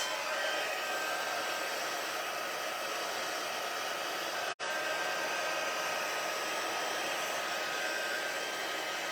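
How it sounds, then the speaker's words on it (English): Heat embossing tool blowing hot air, a loud, steady, close-up whoosh like a hair dryer that runs continuously, broken only by one very brief dropout midway. "I'm going to heat, set, so be aware it's going to be a little noisy for a moment."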